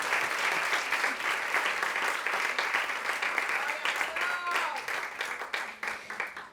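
A church congregation at a conference sermon breaks into sustained, fairly distant applause, a steady wash of many hands clapping that thins toward the end, with faint voices beneath.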